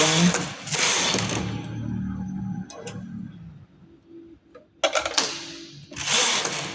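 Home knitting machine carriage swept back and forth across the needle bed knitting rows, loud rattling mechanical passes in bursts with quieter pauses between, close by and without talking.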